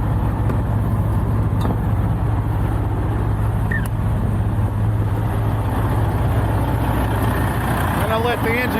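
A truck engine idling close by in a parking lot during a snowstorm, a steady low rumbling hum that holds constant, with faint brief squeaks near the end.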